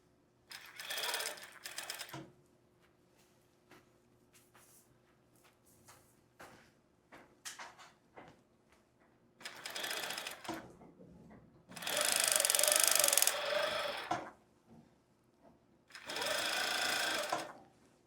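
Sewing machine stitching elastic onto a long skirt, running in several separate bursts of steady whirring, some short and one longer and louder, with quiet handling noises between runs.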